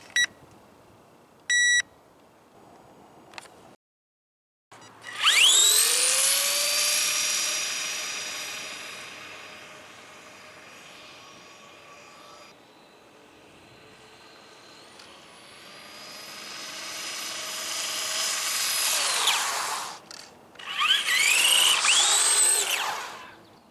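The electric motor of an ARRMA Typhon 2S MEGA 4X4 RC car on a 2S LiPo whines up to a high pitch, sustains, drops away, then revs up again in long surges, with a few short beeps at the start.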